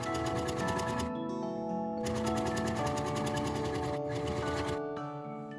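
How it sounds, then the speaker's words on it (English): A sewing machine stitches the top of a pocket on knit fabric in a steady, fast, close mechanical whir, pausing briefly twice before running on and slowing at the end. "I'm going to stitch along here to hold the top of the pocket in place."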